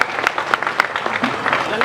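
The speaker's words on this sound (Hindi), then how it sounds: "जरा जोरदार तालियों से उनका स्वागत करें" Brief, loud clapping from a crowd at an election rally, with sharp claps over a murmur of voices.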